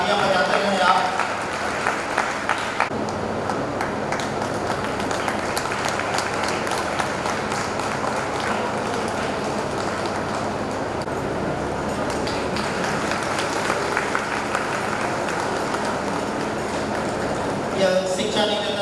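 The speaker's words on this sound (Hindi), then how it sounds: "जरा बच्चों के उत्साह के लिए एक बार तालियां बजाते रहें आप।" Sustained audience applause for children at a talent award ceremony, steady and dense for most of the stretch, with speech from the stage running over it.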